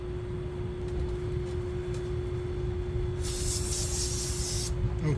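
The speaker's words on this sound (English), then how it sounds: "I'm gonna get some brake cleaner and some clean rags and clean this" Brake cleaner bursts from a spray can onto an engine part from a BMW 2.0L N20 turbo engine during oil filter housing gasket work: a loud, steady hiss lasting about a second and a half, set against a low background hum.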